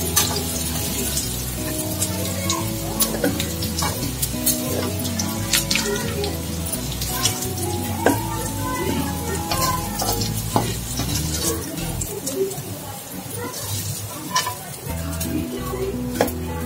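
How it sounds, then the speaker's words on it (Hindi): Potatoes fry in a pan with a constant close sizzle while a spoon stirs them, adding scraping and clinking against the metal throughout. A voice is briefly faint in the background. "अभी ये आलू एकदम अच्छे से फ्राई हो गया है"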